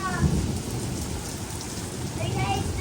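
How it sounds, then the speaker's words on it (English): Heavy rain pours steadily with a low rumble of thunder underneath, a dense, constant wash of sound. "What a thunderstorm."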